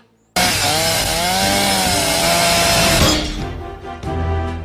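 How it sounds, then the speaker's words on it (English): A loud chainsaw roars close by, then its engine bogs and cuts down, leaving a rougher sputtering idle. "I just stopped a chainsaw with my bare hands."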